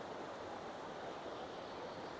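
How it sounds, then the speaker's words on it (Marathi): A steady, broadband rush of a mountain stream on the trail to Lake 22, Washington, even and continuous without pauses, heard faintly at a distance with no voices. "इथे पाणी वाहत आहे मस्त, कसला आवाज येतोय पाण्याचा"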